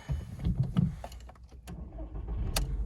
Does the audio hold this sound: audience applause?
no